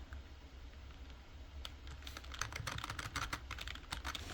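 Typing on a computer keyboard, quiet at first and then a rapid run of close, crisp key clicks in an irregular rhythm over a faint room hiss, with no voices.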